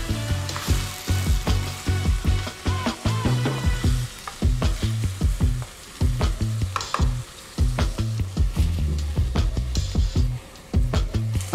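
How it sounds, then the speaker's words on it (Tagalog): Chopped chicken sautéing in a pan for Filipino chicken tinola, loud close frying sizzle with rhythmic scraping and clattering of a spatula stirring throughout, pausing briefly now and then. "Gigisa lang muna natin siya para mas manuot yung lasa."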